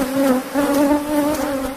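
Honeybees from Sierra de Cádiz hives in Andalusia buzz loudly and close, a continuous droning hum that wavers slightly in pitch and intensity as individual insects pass near, with no voices over it.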